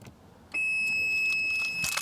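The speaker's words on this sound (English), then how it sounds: "when you hear the long beep, you know that you're okay." A single long, steady electronic beep sounds from the immobiliser of a Nissan Skyline 350GT V35 and holds for over a second before a softer rattle at the end.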